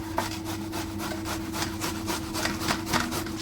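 Watermelon rubbed against a hand grater, rapid rhythmic scraping strokes repeating about four times a second, close and continuous.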